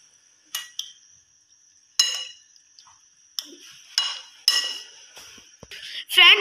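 A spoon clinks against a bowl while mixing vinegar into chicken, scattered sharp metallic taps and scrapes with quiet gaps between, ending in a louder scraping stir.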